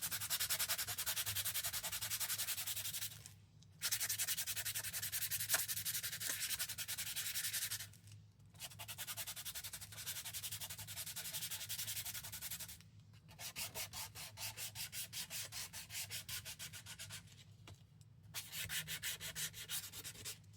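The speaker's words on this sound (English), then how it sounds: "you're going to need to take the paint off on this side so that it can stick better. So I'm just going to sand it here." Paint being sanded off a surface by hand, steady abrasive rubbing strokes in repeated bursts separated by brief pauses, close and fairly loud with no talk.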